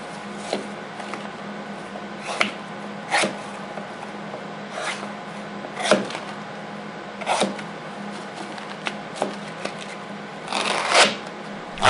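A Benchmade 8600 Bedlam automatic knife slices through thick 8 to 9 ounce vegetable tan leather, giving a string of sharp, scraping cuts with brief rustling bursts, spaced irregularly and close by, with no speech.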